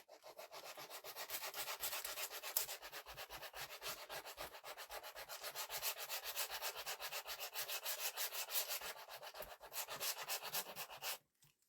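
Sandpaper is rubbed back and forth over a wooden birdhouse in quick, regular strokes, a close, steady scratchy rasp that continues evenly until it stops near the end.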